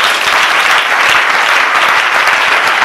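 A church congregation applauding the Lord during a Sunday worship service, with loud, steady clapping from a crowd that fills the room, uninterrupted and close.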